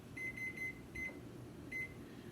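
Kitchen timer sounding during water bath canning of salsa, a faint series of short electronic beeps in irregular groups over a steady low hum of room noise.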